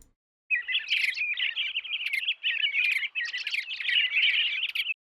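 Bright, continuous bird chirping and tweeting, a cartoon daze effect for a stunned mouse character in a video game, repeating in quick warbling bursts for several seconds with no talk.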